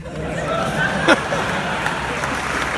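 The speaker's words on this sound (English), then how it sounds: "you gotta applaud that one." Applause from a theater audience at a film Q&A at The Music Box Theater, a short burst of clapping mixed with crowd murmur and some chatter.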